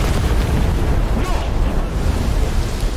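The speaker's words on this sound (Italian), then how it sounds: "Mi ha sganciato una bomba di non so quali dimensioni." A bomb dropped from the air bursts in the War Thunder tank game, a loud, dense, rumbling roar that fills the whole stretch without letting up, with no clear single onset.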